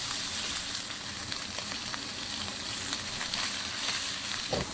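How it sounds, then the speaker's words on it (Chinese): Hairtail fish pan-frying over high heat in hot oil, a steady close, dense sizzle with crackling pops running throughout, no talking. "一面煎好翻一面来煎"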